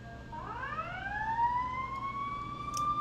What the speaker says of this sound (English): hearing these sirens in the background